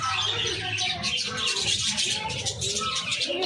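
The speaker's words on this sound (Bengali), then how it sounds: "কতগুলো পাখি!" Many birds, including parrots, in a park aviary chirp and twitter together in a dense, continuous chorus of overlapping calls with some low cooing, fairly loud and close, with no talk.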